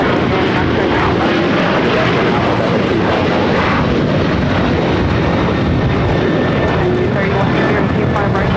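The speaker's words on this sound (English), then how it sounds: "That was Alaska Airlines 1352 taking off to San Jose, Costa Rica on the 737-800." Alaska Airlines Boeing 737-800 jet taking off at a busy airport, a loud, steady, broadband engine roar filling the whole stretch, dense and constant without clear rise or fade.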